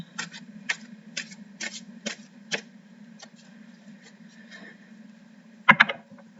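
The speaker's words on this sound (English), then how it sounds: "as I shuffle the cards" Tarot cards being shuffled in a rapid run of crisp, papery bursts about half a second apart, then a pause and one louder flurry near the end, close and clear with no talking.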